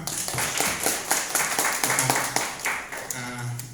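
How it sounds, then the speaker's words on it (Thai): Teachers at a Traimit school training clapping for themselves, a lively, fairly close patter of many hands with a voice talking over it. "อ่ะปรบมือให้ตัวเองหน่อยครับ"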